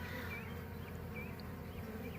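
Honey bees from a swarm near the hive make a dense, steady buzzing drone, close and continuous, with individual bees zipping past in brief rising whines.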